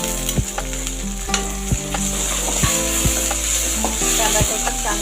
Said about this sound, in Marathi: टमॅटो पण चांगला परतवून घ्यायचा.